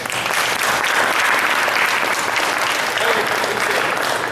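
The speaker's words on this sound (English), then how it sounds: "Big round of applause." A seminar audience gives a dense, even round of applause that holds steady and loud throughout, with no voices breaking through.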